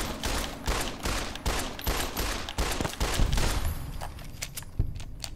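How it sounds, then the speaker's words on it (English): Rapid gunfire in Fallout: New Vegas, dense bursts of sharp shots cracking close and loud in quick irregular succession, a few separate shots trailing off at the end. "I'm gonna shoot him in the butt."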